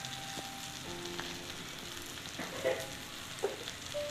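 Sliced onions with salt sauté in a pan for a yam dish, a soft, even close sizzle running throughout with a couple of faint utensil clinks near the end and no voices.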